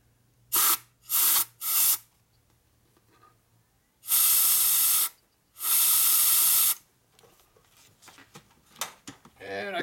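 Compressed air is blasted through an oil passage of a 1942 Harley-Davidson WLC 45ci flathead engine during a rebuild, in three short bursts followed by two longer, loud hissing blasts, separated by quiet pauses.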